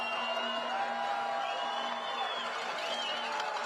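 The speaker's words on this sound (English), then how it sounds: "Crowd's getting into it again." A high school football crowd at a Friday night game between Maroa-Forsyth and Williamsville cheers and murmurs in a steady, dense wash of voices with a sustained tone underneath, fairly loud and continuous throughout.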